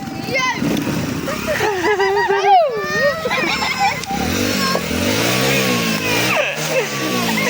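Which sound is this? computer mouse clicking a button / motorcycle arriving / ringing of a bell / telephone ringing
motorcycle arriving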